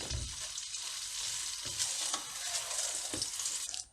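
Thick vermicelli roasts in a pan over low heat while being stirred, giving a continuous close sizzle with scraping stir strokes, and no voices.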